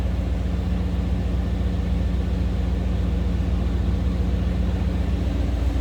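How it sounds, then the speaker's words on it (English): A 1993 Chevrolet C1500 pickup with dual exhaust idles steadily from behind, giving a constant low, even rumble with no revving and no talk. "Of course, the dual exhaust."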